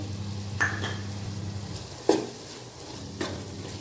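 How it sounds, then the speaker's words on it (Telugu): Fenugreek leaves frying in curry in a pan, a soft steady sizzle with three sharp scraping clinks of a spoon stirring, close and fairly quiet. "మెంతికూర ఫ్రై కానియాలి రెండు నిమిషాలు ఇట్లా కలుపుతూ ఉండాలి"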